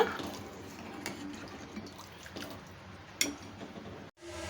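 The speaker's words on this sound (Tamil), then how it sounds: "கிட்டத்தட்ட ஒரு ரெண்டு கப் இருக்கும் புளி தண்ணி அதை வந்து நம்ம இதில் அப்படியே ஆட் பண்ணிடலாம்" About two cups of tamarind water poured into a pan of small-onion curry, a soft continuous trickle and splash at close range, quiet, with a few clinks before it cuts off.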